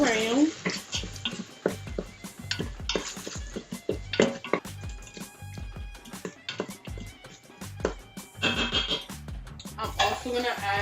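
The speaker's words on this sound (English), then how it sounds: "Stir it around." Lamb being stirred in a cooking pot: scraping and clinking of utensil against the pot under faint sizzling, steady and close, with a person talking over it.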